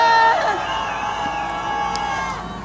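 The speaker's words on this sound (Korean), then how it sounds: "동의한다면 함성해 주십시오" A large crowd at a nighttime candlelight political rally in Korea roars in a sustained mass shout that swells at first and then holds steady, dense and loud with scattered whoops.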